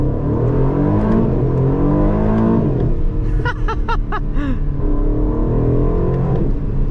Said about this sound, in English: click the manual button and listen to how good this V8 sounds